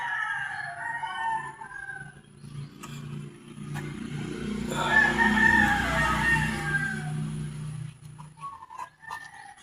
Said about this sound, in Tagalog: magpapakain tayo ng manok